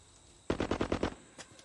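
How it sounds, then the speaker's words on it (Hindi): A rapid burst of automatic gunfire, about six sharp shots in quick succession, erupts loudly from silence in a Hindi film action scene, followed by a fainter single crack. "फायरिंग किधर से हुई?"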